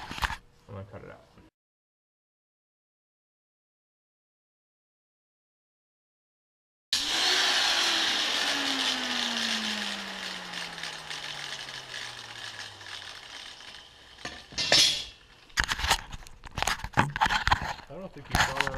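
A power cutting tool spins up and runs through a steel reinforcement piece for a Nissan D21 Hardbody crossmember, a loud steady whine gradually dropping in pitch over several seconds, then stopping amid clatter and handling noise.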